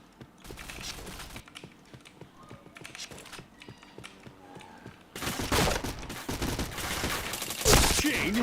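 Gunfire in a video game shooter, with dense rapid shots and bursts heard together with keyboard clicking, growing louder and fuller in the second half and holding a steady, busy pace throughout.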